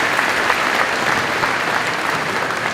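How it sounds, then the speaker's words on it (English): Graduates applauding at a high school graduation ceremony, a loud, dense wall of clapping from a large crowd that holds steady throughout. "I want you guys to give yourselves a round of applause."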